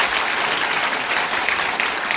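Audience applause at the close of a Korean church lecture session, a dense, steady wash of clapping from a large gathering that holds evenly for the whole stretch with no talk over it.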